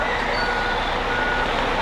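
A truck reverses into position at a building site, its backup alarm beeping steadily under loud, continuous engine rumble and broad noise.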